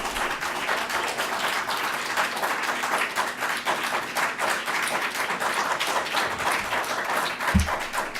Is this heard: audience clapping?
yes